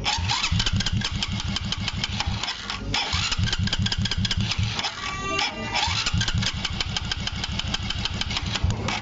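A Honda Karisma 125 motorcycle's electric starter cranks the engine in rapid rhythmic bursts, pausing briefly twice before cranking again, loud and close, without the engine catching.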